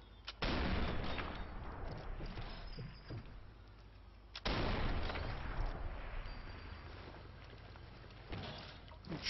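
.270 rifle shots in Sniper Elite 4 crack loudly, each trailing into a long rolling echo, with three or four heavy reports spaced several seconds apart.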